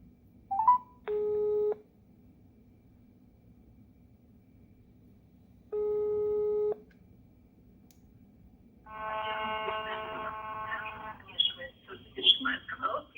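Phone ringback tones heard over speakerphone from a GPS tracker bug: two separate steady beeps, then a longer buzzing tone, all faint over a low background hum, followed by a few brief chirps.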